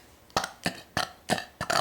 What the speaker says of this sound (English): you can stop there and have like little baby burps